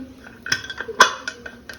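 A few sharp metallic clinks and taps as the whistle weight is lifted off a pressure cooker lid, quiet and close, scattered over about two seconds with no talking.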